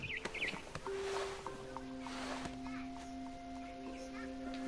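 Barn swallow chirps in What Remains of Edith Finch, a few quick high twittering calls near the start over a steady tonal game backdrop with faint ambient noise.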